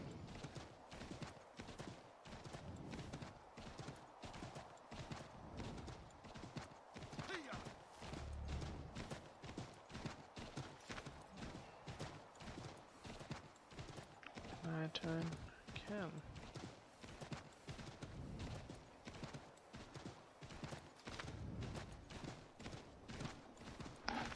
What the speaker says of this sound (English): I'm just just riding my horse.